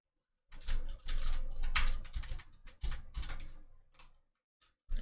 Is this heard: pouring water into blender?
no